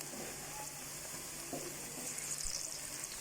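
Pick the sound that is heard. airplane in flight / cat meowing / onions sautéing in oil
onions sautéing in oil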